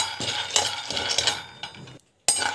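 Chana dal being stirred while it dry-roasts in a pan, giving repeated scraping and clinking of a utensil against the metal in uneven strokes, with one brief pause.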